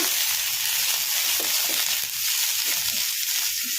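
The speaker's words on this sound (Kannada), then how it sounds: "ಈ ಥರ ಕಲಿಸ್ಕೊಂತ ಫ್ರೈ ಮಾಡ್ಕೋಬೇಕು ಪುದೀನನ" Mint leaves stirred and fried in hot oil in a pan, a steady loud close sizzle and hiss with soft scraping stir strokes underneath, continuous throughout with no talk.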